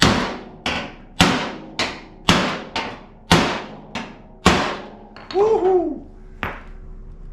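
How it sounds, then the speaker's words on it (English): Hammer and dolly shaping sheet metal on the fender of a 1982 Dodge Ramcharger: about nine sharp, ringing metallic strikes in an uneven rhythm, close and loud, with a brief excited shout partway through. "Let's see what a little bit of hammer will do. Maybe a dolly on the back side."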